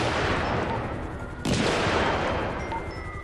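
Rapid gunfire in GTA, dense bursts of shots running continuously with a sharp crack partway through, loud and close.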